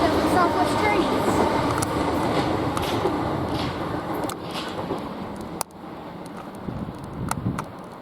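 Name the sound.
class 730 train passing Queenstown Road station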